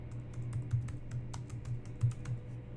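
A blog category title being typed on a computer keyboard: quick, light key clicks in an uneven patter, close by over a faint steady hum, with no one talking.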